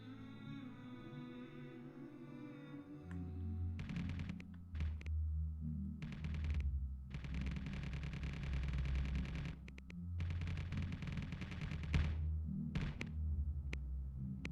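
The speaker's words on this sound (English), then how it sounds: "We're shooting someone down" Weapon fire in the space survival game Space Engineers, heavy bursts of rapid thudding shots in several volleys over a low droning engine hum, with brief pauses between bursts.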